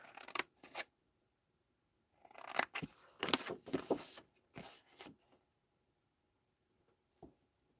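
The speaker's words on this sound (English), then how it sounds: "some people prefer scissors. You do whatever's easiest for you. Okay, I'm just going to cut that down." Scissors cutting through card stock for a handmade gift box, a few crisp snips early, then a run of close, crunchy cuts and a last single snip after a quiet gap.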